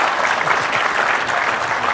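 Audience applause fills the whole stretch at a trade show event, a loud, dense patter of many hands clapping at once without a break.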